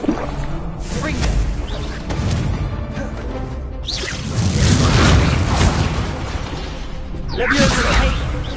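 Confringo fire-blast spells in Hogwarts Legacy, a string of booming explosive hits with whooshes and crashes layered under continuous spoken spell incantations.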